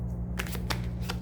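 Tarot cards being shuffled close up, a few quick riffling bursts with soft slaps between them, no voice present.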